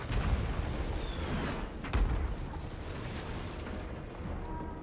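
Mortar shells fire and explode in the battle game Total War: Warhammer 3, heard as distant muffled booms, with a sharp burst near the start and another about two seconds in, set over a rumbling battlefield din.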